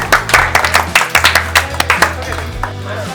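An audience claps at a football challenge event, a run of sharp, closely spaced claps that rises and falls in loose rhythm, fairly near and loud, with some voices mixed in.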